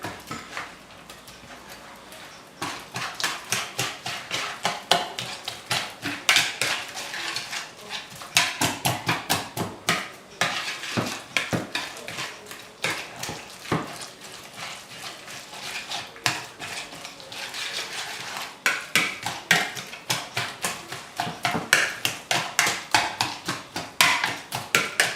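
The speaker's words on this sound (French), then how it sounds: "Et avec le fouet, donc je viens mélanger." Whisk beating tuna tart filling in a bowl, a long run of rapid clinking strokes against the bowl, close and steady with brief pauses and changes of pace.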